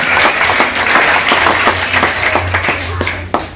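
Church congregation clapping together in sustained applause for Jesus Christ, a dense, steady wash of hands that stays loud throughout with a few sharper claps near the end.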